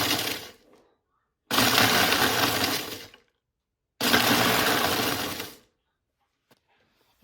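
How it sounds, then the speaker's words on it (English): A food processor grinds Nilla wafers into crumbs in two loud, harsh bursts of about a second and a half each, with a short silence between them. "we're going to grind them up in our food processor until we have 3 cups of ground Nilla wafers"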